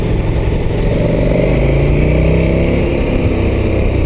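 A KTM 1290 Super Adventure S motorcycle engine runs at a steady, smooth cruise, a loud, close, continuous drone with a slowly shifting pitch and wind under it.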